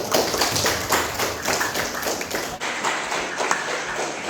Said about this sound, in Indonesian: tepuk tangan untuk Messi